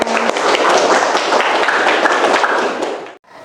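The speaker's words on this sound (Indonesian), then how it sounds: "tepuk tangan untuk kalian semua" A classroom of student-teacher trainees bursts into sustained applause, dense clapping filling about three seconds loudly and evenly before cutting off abruptly, followed by a moment of near silence.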